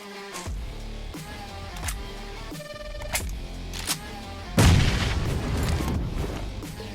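Grenade and molotov blasts go off in a close-range BGMI PUBG Mobile fight, scattered sharp thuds amid game sounds, followed by a heavier, louder explosion that lingers in a rough roar.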